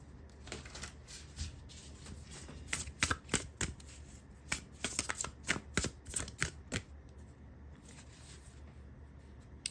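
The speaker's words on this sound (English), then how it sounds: "let me shuffle the cards and see what happens and what comes out" Tarot cards shuffled close up in repeated riffling bursts, crisp papery flutters and taps with brief pauses between them, no voices.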